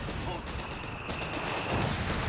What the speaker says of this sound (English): That MG trying hard to suppress is gonna get the job done.